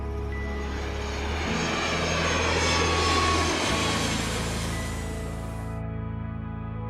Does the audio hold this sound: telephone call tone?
no